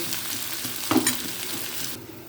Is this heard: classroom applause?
no